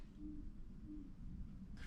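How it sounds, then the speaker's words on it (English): An owl hoots outside at night, two soft low hoots spaced apart, faint and distant over a quiet low hum. "there's an owl just hooting his ass off outside"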